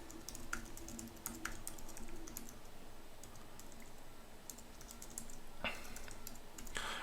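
Rapid, irregular keystrokes clatter on a computer keyboard as code is typed for a custom PixiJS game, with brief pauses and a denser burst of clicks near the end, close and clear with no talking.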